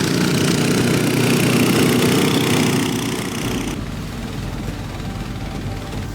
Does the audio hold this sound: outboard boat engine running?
yes